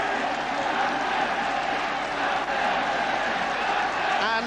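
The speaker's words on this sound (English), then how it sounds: "And the home crowd giving their men a great ovation, which they fully deserve." A home stadium crowd at a Newport County football match gives a sustained, dense ovation of applause and crowd roar, steady and fairly loud from start to finish.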